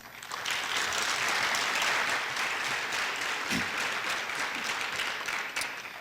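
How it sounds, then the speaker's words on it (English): Sustained applause from an audience at a high school academic hall of fame ceremony, honoring teachers; dense, steady clapping fills the hall for several seconds without speech. "I'd like to personally thank each one of them that are here tonight, and also like to give them a round of applause."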